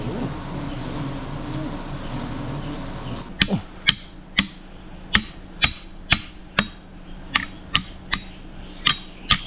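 After a buzzing stretch, a hammer drives metal spikes into a tree in a steady series of about a dozen sharp, ringing knocks, close and fairly loud.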